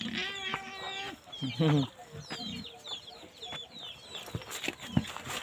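Chickens cluck and squawk nearby in short, scattered calls, with a person talking over the birds now and then.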